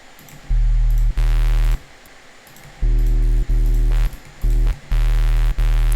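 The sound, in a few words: synthesized hip hop sub bass from sine wave with distortion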